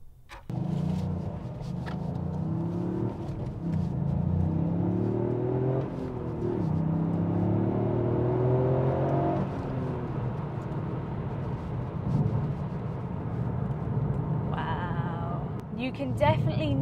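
A Toyota GR Yaris hot hatch engine revs and accelerates through the gears, pulling out from a busy junction, its note rising and falling steadily, with a voice talking over the engine noise.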